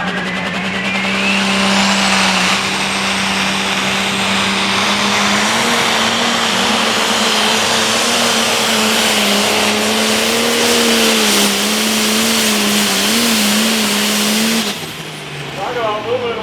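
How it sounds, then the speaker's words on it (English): A 4.1 limited pro stock tractor at a tractor pull in Mackville pulls at full throttle, its engine a loud, steady high roar that holds and rises in pitch for most of the run, then drops off near the end. "you see how he held that throttle back for the first 50, 75 foot before he finally started letting into it and letting all that power"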